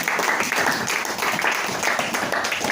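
A church congregation claps and cheers in praise of the king during worship, a dense, steady wash of applause and voices lasting throughout without a break.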